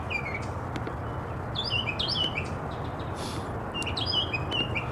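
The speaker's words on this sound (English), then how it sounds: "my sunflowers bring all the birds to the backyard" Small birds chirp and twitter in quick bright phrases around a backyard with sunflowers, repeating across the whole stretch over a steady low outdoor hum.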